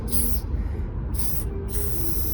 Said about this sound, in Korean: 지금 이 스프레이가 이제 몰로토우의 카드뮴 옐로우예요.